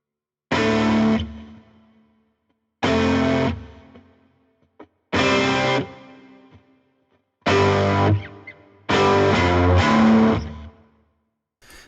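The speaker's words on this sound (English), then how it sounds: "for the Valhalla here, you're going to get the reverb, not just, you know, sending to a reverb that's coming back just stereo as a return" Electric guitar in Logic Pro played through Valhalla reverb with panning that follows the dry signal, heard as five loud sustained phrases with pauses between, a distorted, effects-laden tone with no talking.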